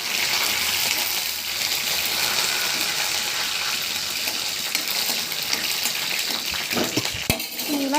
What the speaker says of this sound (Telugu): చిటపట్లు ఆడేసాయి.